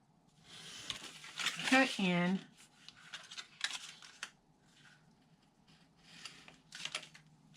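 Scissors snipping corner pieces out of cardstock for an A2 stationery box, a few close, crisp cuts and paper rustles scattered through the stretch, with a brief voice near the start.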